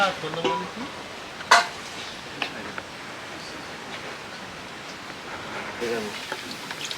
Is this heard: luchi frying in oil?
yes